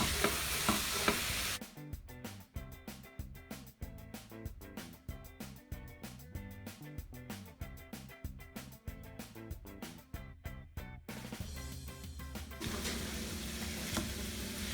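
Ground turkey browning in a pan on medium-high heat, with steady clicks of a spatula stirring and breaking up the meat over a constant sizzle.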